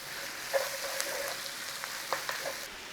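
Mushrooms frying in a pan with bacon, oil and butter, a steady soft sizzle with a few faint crackles and stirring taps, heard alone at close range.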